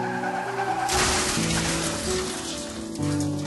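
Sound effect of a car skidding in an audiobook street-battle story: a sudden rush of tire and engine noise that swells and holds with a squealing edge, heard alone without narration.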